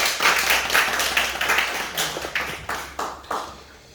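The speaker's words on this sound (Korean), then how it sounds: "박수 한번 주십시오." Applause from an audience at a theological seminary lecture, a scattered round of clapping that thins out into a few separate loud claps toward the end.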